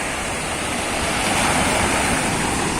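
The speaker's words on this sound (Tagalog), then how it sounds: "Medyo mataas ang alon niya, yung malakas." Continuous roar of fairly high ocean surf in General Nakar, Quezon, broad and rushing with no distinct breaks, fairly loud and close with some wind.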